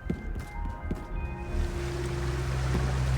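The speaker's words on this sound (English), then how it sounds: "So there's another waterfall in here" A steady rushing waterfall in the video game Manifold Garden, a broad watery roar that swells and holds, with a low tonal hum beneath and a few soft clicks early on, no speech.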